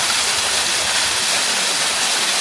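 Partly frozen Dark Hollow Falls in Shenandoah roars as a steady, dense wash of falling water, loud and unbroken from start to finish with no voices over it.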